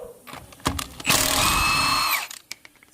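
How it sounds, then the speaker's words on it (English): An 18-volt Milwaukee impact wrench with a 19 mm socket loosens lug nuts on a Honda HR-V, giving a loud hammering burst of about a second amid short clicks and handling noises. "an 18 volt Milwaukee impact, I've got it in the description, and a 19 millimeter socket"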